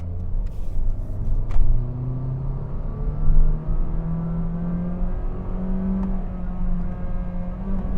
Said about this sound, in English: Can you hear the engine rev? It's really loud, right? Because it's trying to hold on to that gear.